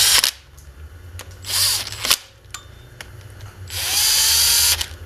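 Ratchet snugging down water pump bolts on a Subaru EJ22 engine in a radial pattern, heard as several close bursts of rapid clicking, the longest near the end, separated by brief quiet gaps with no talk.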